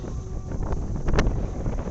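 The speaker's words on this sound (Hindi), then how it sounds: "हवा की आवाज़ से आपको अंदाज़ा लग रहा होगा कितनी तेज़ हवा है" Strong wind roars continuously into the microphone on a high mountain near Nainital, a loud rumbling buffet that swells briefly midway, with no voices.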